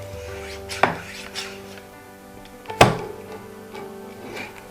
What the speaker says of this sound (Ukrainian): перевіряємо, як працює ножиці